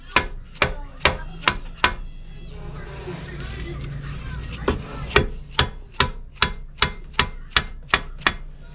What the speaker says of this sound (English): The biggest thing is to hit it all the way around.